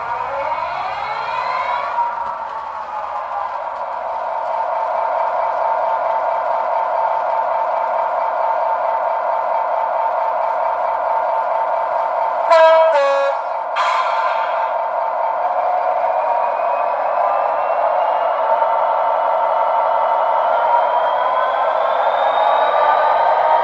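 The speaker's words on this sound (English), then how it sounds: "I'll start this up and let you have a listen." A Class 66 model locomotive sound chip starting up, with a rising diesel drone settling into a loud steady engine hum, a brief burst of clanking mid-way, then the idle running on.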